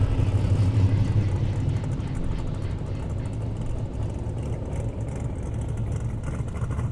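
Chevrolet Malibu race car running on an airstrip, a low engine drone heard at a distance, fading slightly in strength across the span without distinct passes or revs.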